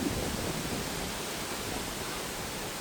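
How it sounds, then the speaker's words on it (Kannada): Strong wind blows outdoors under a clouded sky before rain, a loud, steady broadband rush buffeting close to the microphone for the whole stretch, with no talking. "ಫುಲ್ಲು ಗಾಳಿ"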